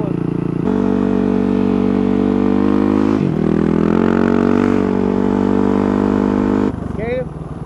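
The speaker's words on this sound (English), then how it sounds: "Getting to ride on a dirt bike." A dirt bike engine drones loudly and continuously nearby during a ride, its pitch dipping once and then climbing again as it revs. At the end it drops away and a voice is heard.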